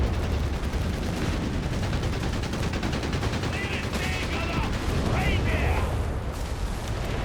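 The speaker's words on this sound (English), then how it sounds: "Got another Stukas barrage out of Symbiosis" A Stuka bombing barrage in Company of Heroes 3 strikes clustered support vehicles and a tank destroyer, giving a continuous rumble of explosions and gunfire under steady commentary.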